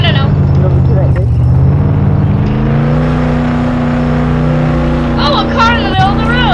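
A car in the Roblox Jailbreak video game drives with a loud, steady engine drone that rises in pitch partway through, and voices talk over it near the end.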